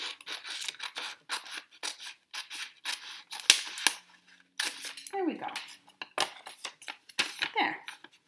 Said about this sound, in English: And then cut on my crease.